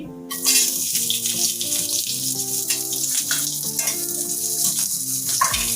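Onion drops into hot oil for a village-style chicken gravy, a loud sudden sizzle that settles into steady crackling frying with some stirring, close by, with tonal hum in the background and no speech.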